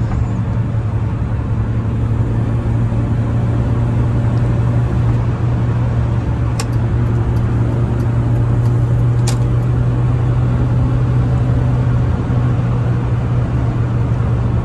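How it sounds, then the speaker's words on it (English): Interior road noise in a 2004 Mini Cooper cruising at about 75 on a smooth freeway: a steady low engine and tire drone with an even broadband hiss, constant and close, with a couple of faint ticks. "Smooth and straight and nice. quiet for a Mini Cooper."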